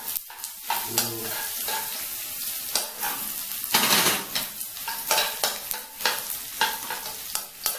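Onions stir-frying in a pan for a Korean home-cooked dish, a steady sizzle broken by repeated scraping strokes of a utensil and occasional metallic clinks, close and fairly loud with no talking.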